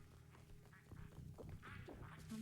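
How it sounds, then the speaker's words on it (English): Duck quacking in the video game REPO, a few quiet nasal quacks mixed with game noise and soft thumps, faint and somewhat close. "I don't know where the duck came from."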